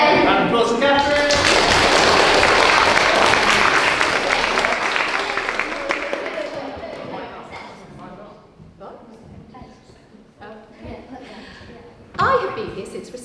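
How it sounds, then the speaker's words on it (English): Audience applause at a school leavers service: a loud, dense burst of clapping from a crowd indoors, strongest at first and gradually thinning out over about ten seconds, with a voice heard near the end. "Round of applause for Catherine."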